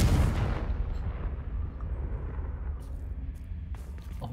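In Hogwarts Legacy on PS5, a Confringo spell blast goes off as a sharp, heavy boom right at the start. A long rumbling decay fades away over the next few seconds.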